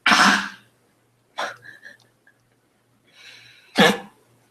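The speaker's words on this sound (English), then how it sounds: "This dog coughing in my face" A dog's harsh, hacking coughs close by: a loud burst, a second shorter one with a few small wheezy hitches, then another loud cough after a pause.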